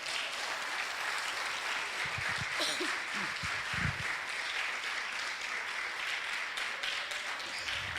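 A church congregation at an evening service during a G12 pre-convention in Fortaleza breaks into sustained applause, a dense wash of clapping that holds steady throughout, with a few scattered voices calling out underneath.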